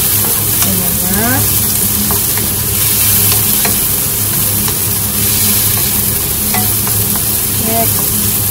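Pork browning in a frying pan, sizzling steadily and loudly up close with occasional stirring scrapes, no talking.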